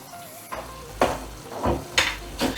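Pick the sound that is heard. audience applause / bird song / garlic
garlic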